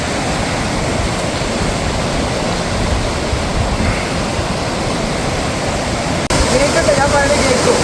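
Rushing mountain floodwater roars as a loud, continuous broadband wash, close and unbroken, at a landslide-hit school site in Chooralmala, Wayanad.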